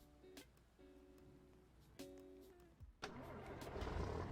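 A Roblox video game vehicle plays several short tonal beeps, then its engine cranks and starts, settling into a steady, moderately loud running hum.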